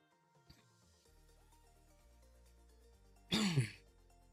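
A single short throat clear or cough, close and fairly loud, from a person during a game development session, set against faint background music with no talking.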